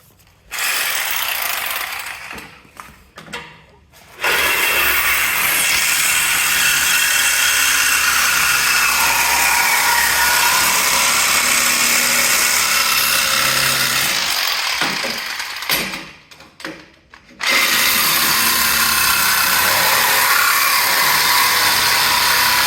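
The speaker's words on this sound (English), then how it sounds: "I've run a Sawzall." A Sawzall reciprocating saw cuts through a go-kart part in two long, loud, steady runs of buzzing, rattling blade strokes, with short pauses in between and at the start.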